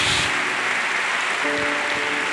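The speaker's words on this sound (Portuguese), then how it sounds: "Você pode aplaudir a Jesus Cristo uma vez mais." Congregation applauding in a church service, a steady wash of clapping filling the room with faint sung or organ tones entering partway through.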